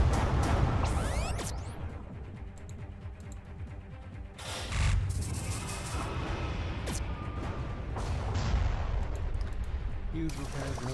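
Weapons fire in the space strategy game Halcyon 6, a dense stream of rapid shots and blasts that stays loud for the whole stretch, mixed with whooshes and crashes, while a voice talks over it.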